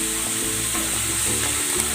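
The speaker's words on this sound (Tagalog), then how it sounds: "Ayan, nagpainit na ako ng mantika. Ipiprito ko na itong kamote." Strips of sweet potato frying in hot cooking oil, a steady dense sizzle that fills the whole stretch at an even, fairly loud level, with a few faint low knocks underneath.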